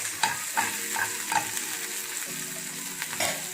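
Green chilies being stirred in a frying pan while hot oil sizzles steadily, with a few distinct scraping clinks of the spatula against the pan.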